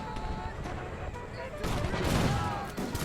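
Massed musket volley from troops in an American Revolution battle game, heard as a dense, loud rolling crackle of overlapping shots with battlefield noise throughout.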